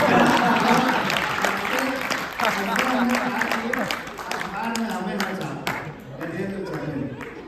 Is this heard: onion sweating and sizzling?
no